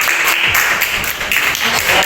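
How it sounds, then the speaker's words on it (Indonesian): Steady applause from a junior high school class at SMP Muhammadiyah 8 Kota Batu fills the room for a student named Kaleto. It is dense, close clapping from many hands with no talking over it. "Tepuk tangan untuk Kaleto."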